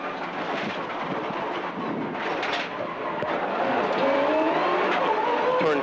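A Group N rally car, driven by Seamus Leonard on the Ramsey spectator stage of the Manx International Rally, roars past with rising engine revs and tyre noise, loud and near against crowd and wind noise.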